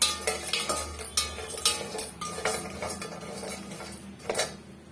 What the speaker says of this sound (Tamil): இந்த கருவாடும் மிதமான தீயில வச்சு நம்ம வறுத்து கொடுத்துக்கணுங்க இல்லைன்னா கீழ்பாகம் வந்து அடி பிடிக்கிற மாதிரி நல்லா கருகி போயிடும் மாதிரி கிளறி கொடுத்துட்டே இருக்கணும்